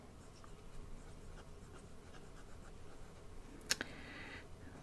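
Pen scratching across the pages of a weekly planner, soft continuous writing strokes up close at low level with a brief sharper rustle near the end.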